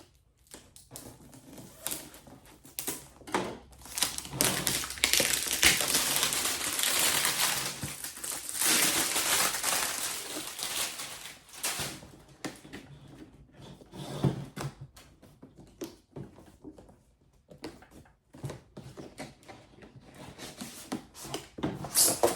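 The packaging of a 4K dashcam for a 2024-2025 Toyota Tacoma is handled up close: cardboard and plastic rustle, crinkle and scrape, with irregular clicks and taps and louder bursts, and there is no speech.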